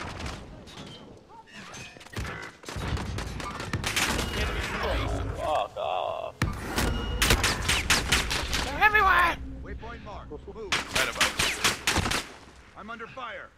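Video game gunfire crackles in rapid volleys and bursts of automatic shots, loud and close, broken by short pauses while players talk over it.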